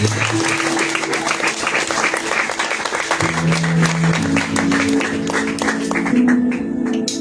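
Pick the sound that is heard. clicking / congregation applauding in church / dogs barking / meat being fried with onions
congregation applauding in church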